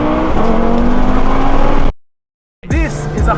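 An 800 HP stage 5 big-turbo Audi TT RS accelerates hard in first gear, a loud, close engine roar that cuts out abruptly and then returns rising sharply with rapid revving.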